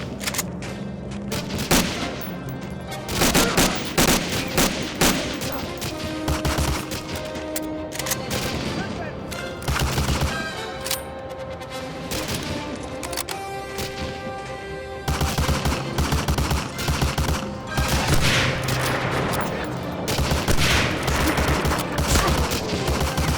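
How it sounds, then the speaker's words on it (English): Dense, rapid bursts of machine gun fire and scattered gunshots ring out in a Medal of Honor Warchest firefight, the volleys running almost continuously, loud and close, with brief lulls between strings of shots. "The freaking machine gun, by the way."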